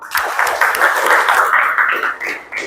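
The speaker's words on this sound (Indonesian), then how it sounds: "tepuk tangan untuk kita semua" Junior high classroom in Batam breaking into applause, a dense burst of many hands clapping close and loud for nearly three seconds before tapering off.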